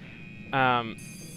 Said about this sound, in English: Navy alarm sound.